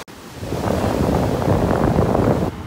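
Waves breaking steadily on a beach in North Naples, Florida on a stormy day, a loud continuous roar of surf mixed with wind buffeting the microphone, with no talking.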